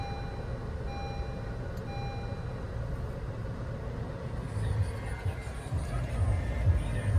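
A 2022 Honda CR-V Touring AWD is started from inside the cabin. Soft chime tones come first, then the engine catches and settles into a quiet, steady idle hum that grows slightly louder toward the end.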